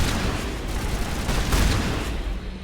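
Gunfire in the video game Mass Effect, with an upgraded shotgun among the weapons, a dense loud continuous roar of shots and blasts with no clear pauses, no talking.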